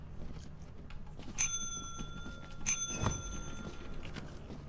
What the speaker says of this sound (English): did the bell get rung?